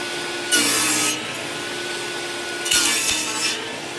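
Saw teeth rasping through cedar while making post caps: two close, loud bursts of back-and-forth cutting strokes separated by a quiet pause.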